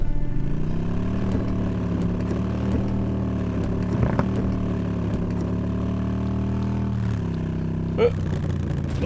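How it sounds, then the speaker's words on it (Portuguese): A small motorbike ridden in the zombie survival game Undawn, its engine droning steadily with a shifting pitch and a brief clatter near the end, moderately loud with faint background noise. "Mas é óbvio que eu vou usar minha motinha."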